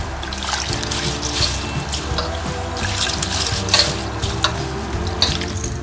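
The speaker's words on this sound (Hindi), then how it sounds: "हमने राइस रखा है, इसको पहले हम धो लेते हैं 2-3 पानी से।" Water runs steadily from a tap while rice is rinsed by hand in a bowl, with soft swishing and trickling close by and no talking.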